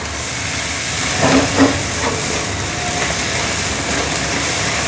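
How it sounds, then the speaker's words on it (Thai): Oyster omelette batter sizzles and hisses loudly in a hot pan as it is stir-fried, a steady broad crackle with a couple of brief scraping knocks near the start, no speech. "แล้วก็ผัดเลยนะครับ"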